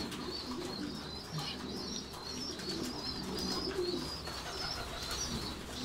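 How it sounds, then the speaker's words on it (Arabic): Domestic pigeons coo in soft, repeated rounds, several birds layered together close by with faint chirps and a hint of wing movement over a steady background. "الحمام بيبقى في غاية الفرح الصراحة وهو بيعمل الحركات دي"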